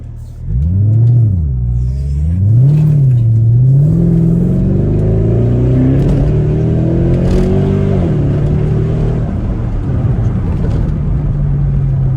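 A Mercedes-Benz ML63 AMG engine revs hard in loud, rising and falling swells, then settles into a sustained, building roar as the vehicle accelerates. The sound is close and powerful, with a deep rumble underneath throughout.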